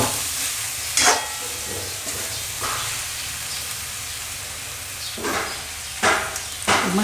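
Drumstick flowers cooking in spice masala in a pan, giving a steady low sizzle with a few louder hissing bursts as the mixture is stirred, close and alone.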